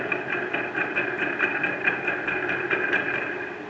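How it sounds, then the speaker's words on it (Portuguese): A car engine with a worn water pump wobbling on loose shaft play, giving a steady mechanical running noise with a fast rhythmic ticking knock throughout, close and fairly loud, with no talk. "Ela fica balançando desse jeito dentro do motor e fazendo barulho, né?"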